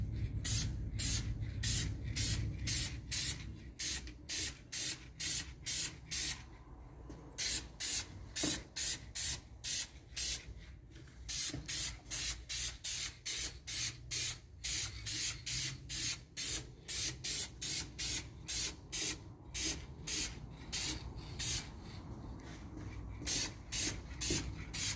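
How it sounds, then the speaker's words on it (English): Short rhythmic bursts of an aerosol spray can coat awkward spots inside a Honda Integra engine bay, a steady run of hissing pulses close to the mic, with a continuous hiss at the start. "I don't want to end up spraying them multiple times trying to get them"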